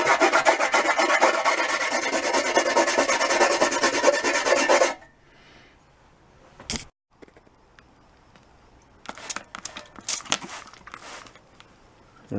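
Steady abrasive rasping as rust is scraped off a metal pipe in a small workshop, loud and continuous for about five seconds, then quiet with a few sharp knocks and short bursts of scraping.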